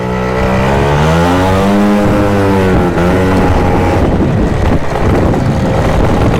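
A Yamaha Jog 70cc scooter riding laps, its small engine droning and rising and falling in pitch as it accelerates and eases off, loud and close with wind buffeting the microphone.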